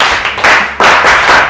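Group of children clapping together for a boy at a juvenile justice rights session, three loud bursts of dense applause close by with brief dips between.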